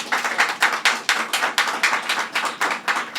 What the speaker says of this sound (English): let's give you another round of applause here